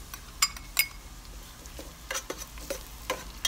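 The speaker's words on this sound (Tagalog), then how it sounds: "Haluin lang po natin together." Ground beef with ginger and garlic being stirred in a pan, a soft continuous sizzle punctuated by sharp, irregular clinks of a utensil scraping and tapping the pan, close and fairly quiet.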